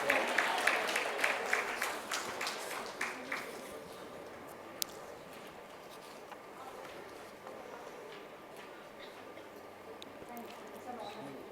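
An audience at a medical awards ceremony honoring a gynecology specialist applauds in a dense wash of claps that is loudest at first and then fades to a soft, distant patter.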